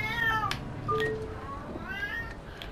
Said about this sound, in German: meine Katze hat gerade ziemlich laut gemaust